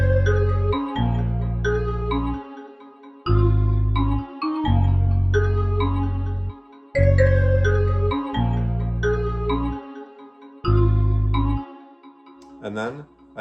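A self-made beat with a deep bass line and a melody playing together, in repeating blocks with short gaps, loud and steady, ending in a rising sweep.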